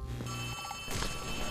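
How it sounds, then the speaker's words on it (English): A telephone rings in the horror game Poppy Playtime, a fairly loud, steady bell-like ring that fills the scene against a dense background. "I'm hearing a phone."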